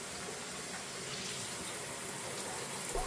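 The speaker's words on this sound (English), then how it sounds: "And I start adding the water." Tap water gushes steadily into a cooking pot for pork neck bone soup, a continuous splashing rush with no talk over it.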